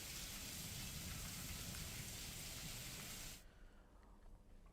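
Heavy rain driven by strong winds pours down as a dense, loud hiss for about three seconds, then cuts abruptly to a much quieter steady wash, with no voices present.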